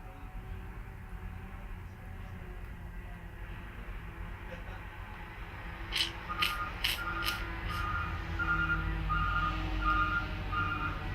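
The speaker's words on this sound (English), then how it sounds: "maybe that is the cement truck making that noise." A series of high electronic beeps sounds at a steady rhythm from a reversing cement truck, moderately distant, over a low rumbling engine and background noise.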